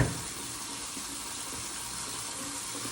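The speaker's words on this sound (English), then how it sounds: "I'm gonna go in with the, what I will say, face wash for a second wash" Steady running tap water at a bathroom sink during a face wash, a continuous close hiss with no talking.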